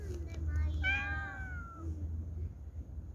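A stray cat with a spot under its chin gives a clear, close meow that rises and falls, with a faint second call after it over low background rumble.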